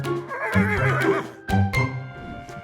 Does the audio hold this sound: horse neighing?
yes